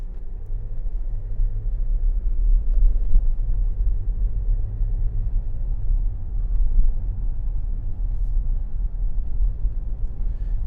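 Steady low rumble and road noise inside a moving 2013 Range Rover Sport Black Edition, a continuous close hum with a faint vibration underneath and no talking.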